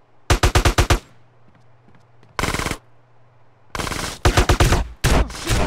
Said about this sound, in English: He's just shooting him.